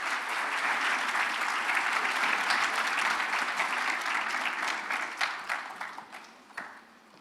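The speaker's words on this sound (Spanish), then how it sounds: "Démosle un fuerte aplauso a Rafa y Raimundo" Loud audience applause for two presenters at an AI summit, sustained dense clapping that holds steady for several seconds, then tapers off into scattered individual claps.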